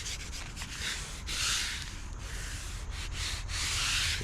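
Steady scuffing and sanding strokes rub over painted spots on a 1992 Roadmaster dashboard part, a close, soft rhythmic abrasion that keeps going with no talk.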